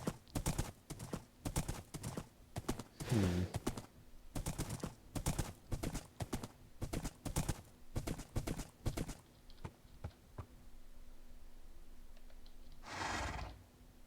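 Horse hooves clip-clop in a steady rhythm for several seconds, with a whinny partway through and another near the end in a game setting.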